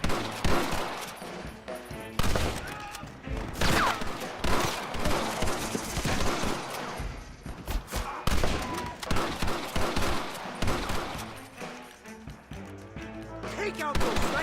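Rapid gunfire from Red Dead Redemption crackles in dense, overlapping volleys throughout, loud and continuous like a shootout, mixed with game voices.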